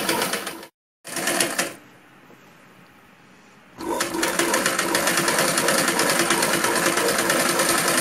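A sewing machine stitches a fall onto a saree with a steady, close whirring. A short burst and a pause come first, then the machine runs continuously for the rest of the clip, with no talking.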